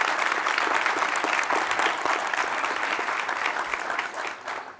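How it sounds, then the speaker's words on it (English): A panel audience at a real estate and inland port leadership forum breaks into dense, sustained applause that fades slightly toward the end. "let's start with a round of applause for them for coming"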